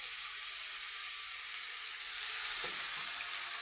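Chopped banana stem (thor) cooks in a pan with its released water, giving a steady bright sizzle and hiss that swells slightly louder partway through as it is stirred.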